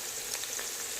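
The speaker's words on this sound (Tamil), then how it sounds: "இதை நல்லா கிளறி விட்டுக்கலாம்." Garlic cloves and curry leaves sizzle steadily in hot oil in a pan while being stirred for a Tamil pomfret fish curry, a bright continuous crackle with no talk.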